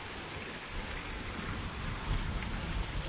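Steady rain falling and pattering on surfaces, a dense even hiss that swells slightly louder toward the end.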